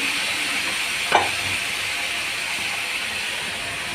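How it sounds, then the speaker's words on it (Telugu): Ridge gourd with green chilli and crushed ginger cooking in a pan, a constant broad steamy hiss with one short clatter early on; no talking. "ఇప్పుడు ఇదిగోండి బీరకాయ కూడా వేసాను, మగ్గుతుంది."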